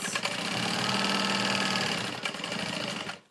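A sewing machine stitches a tote bag with a dense, steady mechanical whir close by, running continuously and fairly loud before winding down at the end.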